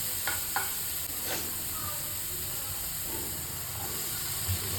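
Chopped onion and tomato sizzle in hot ghee in a pan, a steady soft frying hiss with a few brief stirring scrapes, close and alone without talk.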